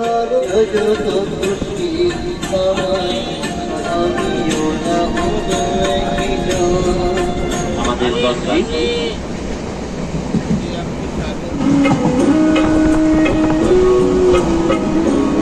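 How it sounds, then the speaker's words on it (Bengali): Barddhaman–Katwa local train 35013 pulls out of a small station on a single line, its loud rumble and rattling wheels building steadily, with a horn sounding near the end and voices in the background. "চলো ট্রেন ছেড়ে দিচ্ছে, দেখা হচ্ছে পরের স্টেশনে"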